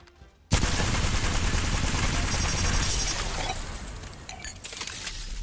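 Rapid automatic gunfire in a first-person shooter game, a dense, loud continuous burst that starts abruptly and rattles on for several seconds before tapering slightly, with no voices.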